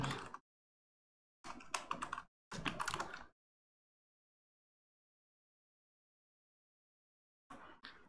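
Computer keyboard keys clatter in short bursts while a title is entered in Photoshop: a quick tap, two rapid runs of typing, then a long silence before a final burst, close and dry.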